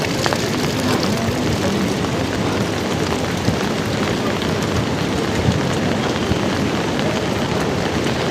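Steady heavy rain and stormy wind roar without pause on the Kedarnath pilgrimage trail, a dense continuous wash of noise close by, with no voices heard.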